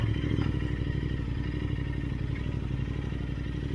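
A BMW R1250GS motorcycle rides along at a steady cruise, its boxer engine droning continuously with a low, even rumble and wind and road noise throughout, no talk over it.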